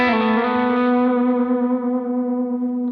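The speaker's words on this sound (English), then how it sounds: "if I hit this, you can hear how it kind of sweetens up the delay." A sustained electric guitar note through a delay pedal with a boost pedal engaged rings out with a repeating delay echo, full and slightly driven, fading gently over a few seconds.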